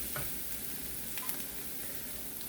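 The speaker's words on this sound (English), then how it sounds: "You basically want to saute the garlic to infuse with the oil" Garlic sautés in hot oil in a pan for ground beef with peas and carrots, giving a steady, close hiss of sizzling with a few small pops and no talking.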